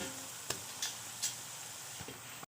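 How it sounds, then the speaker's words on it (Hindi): Ginger garlic paste frying with onions for keema kachnar, a low steady sizzle broken by a few sharp taps and scrapes of a spoon against the pan, quiet with no voices. "अब इसको फ्राई करेंगे हम प्याज के साथ।"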